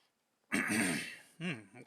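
A single loud cough right up against the microphone, a harsh burst of about a second followed by a shorter second cough, after near silence.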